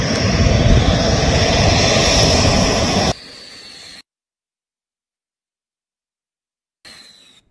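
Loud, broadband roar of a passing Rafale fighter jet for about three seconds, dropping abruptly to a fainter engine hiss, then silence, then a brief low return near the end.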